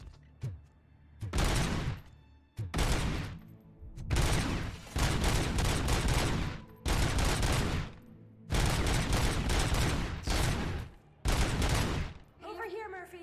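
RoboCop's gun fires in long sustained bursts in Rogue City, loud dense volleys separated by short pauses, repeating through the whole stretch.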